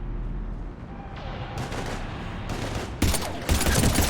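Gunfire in the video game Mass Effect 3 during a fight with husks, with bursts of shots growing louder and denser toward the end over a constant noisy battle bed.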